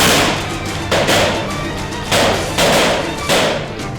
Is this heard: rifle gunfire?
yes